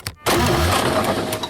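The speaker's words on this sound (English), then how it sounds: "when she starts the car, I add a reverb effect to make the engine sound distant, as if outside the car" A car engine cranks and catches, a short burst of dry, close engine noise with no reverb, loud and alone after a brief click and pause.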